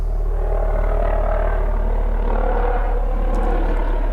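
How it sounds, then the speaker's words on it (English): Helicopter flying over outside a building, heard indoors through a window; a continuous low rotor drone with a steady throb, moderately loud and unchanging across the few seconds. "Now is the helicopter coming over."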